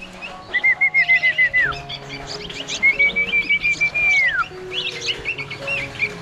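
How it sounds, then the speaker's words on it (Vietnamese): Red-whiskered bulbul nestlings in a nest give a rapid series of close, loud chirping calls in repeated bursts, with a few longer whistling tones among them. "Đây là tổ mào mà hôm qua mình bắt về này."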